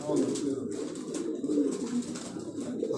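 Soft, repeated pigeon cooing burbles from a Karachi rooftop loft, low and steady, with someone talking over it.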